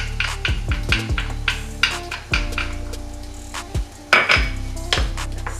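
A spoon stirs onions and garlic in a frying pan. Several scrapes and clinks of metal on the pan sound loud and close, with a soft sizzle underneath and no talking.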